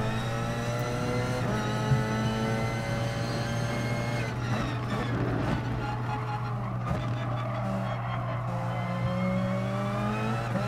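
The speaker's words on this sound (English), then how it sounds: "It is nice driving Group 1 cars around the Nürburgring though." Group 1 race car engine lapping the Nürburgring in Gran Turismo Sport, a steady loud drone with a strong low hum and layered rising and falling engine harmonics as the car shifts, continuous without talk.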